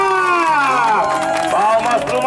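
A crowd at a lively surprise celebration in Cidade Tiradentes cheers and shouts, with excited voices rising and swooping over a dense, continuous background of noise.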